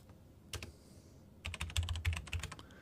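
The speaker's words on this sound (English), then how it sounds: "So I've just put in a password that I'll remember." Password typed on a computer keyboard: a lone keystroke, then a quick burst of about a dozen close, crisp clicks and taps, with no talking.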